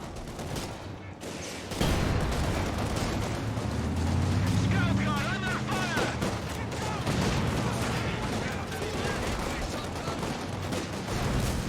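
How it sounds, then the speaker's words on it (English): Rifle gunfire during a battle in Company of Heroes 2, continuous crackling volleys with booming impacts, loud and busy, starting abruptly after a quieter opening, with a voice speaking over it. "It's the rifles, I believe."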